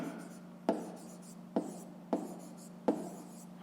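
Pen writing on paper while working a fifth-grade maths exercise, four distinct taps and short scratches spaced about a second apart, close and clear over a steady background hum.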